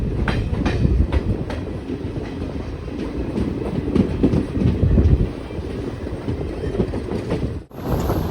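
Madurai–Coimbatore Intercity Express running on rails: a steady, loud rumble of wheels and carriages with rhythmic clickety-clack from the track joints, nearby and continuous, with a brief dip near the end.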